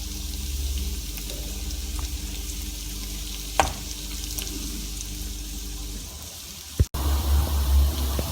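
Chili paste ingredients roasting in hot oil, a steady close sizzle with a soft stirring clatter and a sharper clink near the end.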